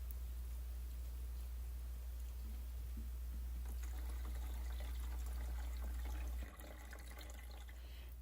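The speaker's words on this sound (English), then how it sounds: "let's fill up the water for these 3 trays of lettuce" Water runs steadily into three hydroponic lettuce trays in an indoor grow room, a soft continuous trickle and splash that holds even throughout and drops slightly in level near the end.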